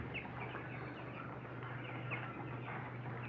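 Many broiler chickens on a farm cluck and murmur softly at a distance, a dense flock sound over a constant low mechanical hum.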